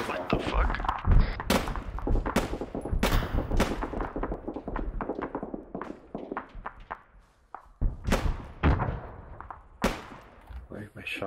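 Rapid gunshots from a multiplayer war simulation game, a dense run of sharp cracks and thuds with some louder reports, heard under excited voices talking.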